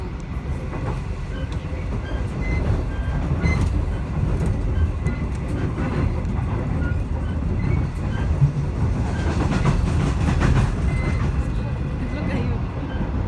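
Noisy train carriage rolling between Mooroopna and Southern Cross, a steady loud rumble with rattling and faint clickety-clack of the rails throughout, no talk.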